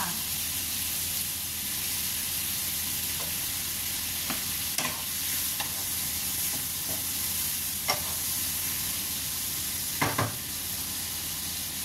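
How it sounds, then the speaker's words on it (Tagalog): Baby octopus sautéing in a pan at home, a steady sizzle and hiss with occasional sharp clicks and taps of a utensil stirring against the pan. "Habang ginigisa ang octopus at home, lagyan mo ng paminta."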